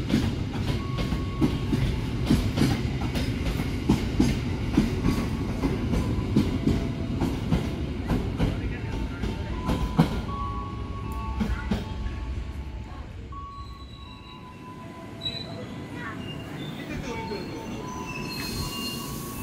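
Brawijaya passenger train on the Jakarta–Malang route via Semarang, Solo and Madiun pulling out of a busy Jakarta station, with steady rumbling wheels, metallic squeals and clacking over rail joints that ease off toward the end.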